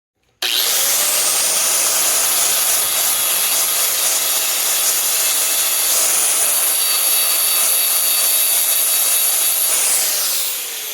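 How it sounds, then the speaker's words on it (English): An angle grinder cleans thick steel before welding during a DIY wet storage build on a Geo Pro 19FD travel trailer. It gives a loud, close, continuous whining hiss that runs unbroken for about ten seconds, then tapers slightly. "We need to clean this up with a grinder just so it welds nice."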